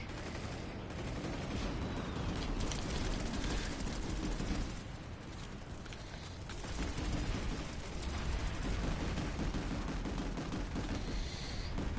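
Rocklet rifle gunfire in Planetside 2 pounds at close range in rapid, dense bursts mixed with explosions, loud and nearly continuous across the whole stretch.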